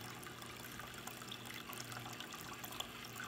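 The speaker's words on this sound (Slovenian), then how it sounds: "Voda teče." Water flowing steadily outdoors in a Christmas nativity scene in Lemont, a continuous faint trickle and babble under low background hum, with no voices.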